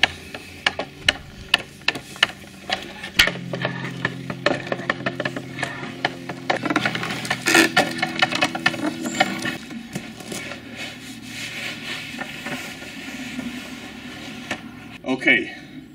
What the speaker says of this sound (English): And it can only be cocked by a winch.